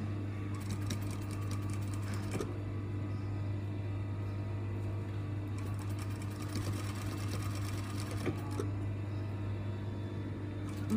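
A sewing machine stitches a seam up close in bursts, its fast rattling needle chatter starting and stopping against a steady motor hum, with no voices.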